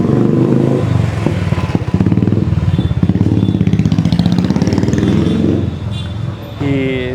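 A motorcycle's silencer exhaust chugs with a loud, rapid, steady pulsing close by outside a busy canteen in Hubballi, with a voice briefly heard near the end.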